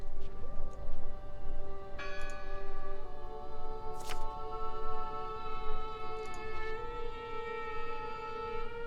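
A church bell in a video game (Draugen) rings with sustained ringing tones that hang and decay, struck again partway through, over a soft, steady background hiss.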